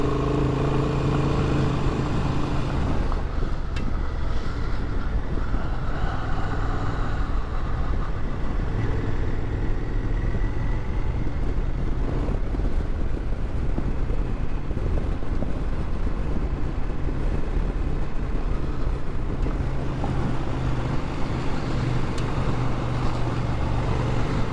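A 2024 Honda Transalp motorcycle ridden off road on a dirt road, its engine droning steadily and close for the whole stretch, with wind buffeting the microphone and no talk.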